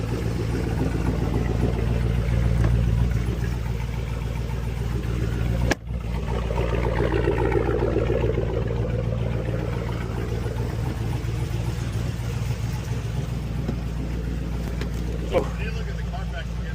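Cammed Chevrolet Silverado truck idling with a steady, loping low rumble, close and constant, under people talking, with one sharp knock partway through.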